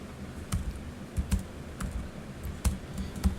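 Someone types on a computer keyboard nearby, a quiet, irregular run of key clicks with a few sharper taps standing out, and no talk over it.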